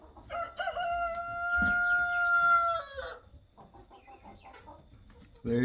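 A chicken squawks with a long, loud, sustained cry while being caught with a wire hook bent from a coat hanger, followed by quieter, irregular clucks and rustling nearby.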